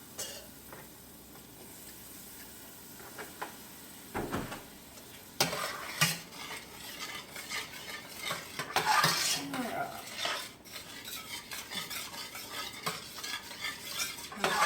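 Milk is stirred into a thickening Swedish meatball sauce in a pan, with a steady scraping of a utensil against the pot, a soft sizzle underneath and occasional louder clinks, close by and without talk.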